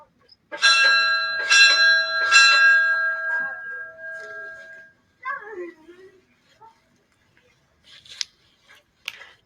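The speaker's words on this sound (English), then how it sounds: "So now we're gonna ring the bell at the chateau." A bell at the door of a troubadour-style chateau clangs three times in quick succession and its ringing tone fades over a few seconds, followed by faint door and movement noises.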